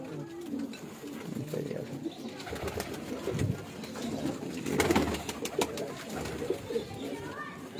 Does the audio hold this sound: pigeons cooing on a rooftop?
yes